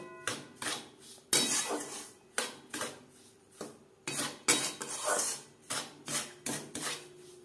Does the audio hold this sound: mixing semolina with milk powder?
yes